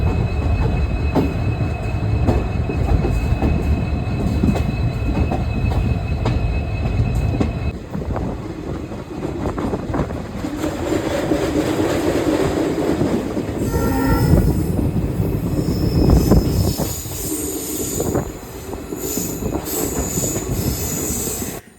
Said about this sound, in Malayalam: എല്ലാ ആൾക്കാരും വീഡിയോ എടുക്കുന്നുണ്ട് ഈ ഒരു ട്രെയിൻ വരുന്നത്